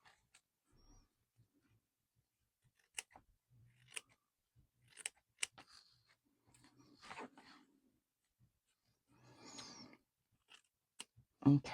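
Scissors cut out a paper doll jacket, making faint, close snips that come singly and in short clusters with quiet gaps between.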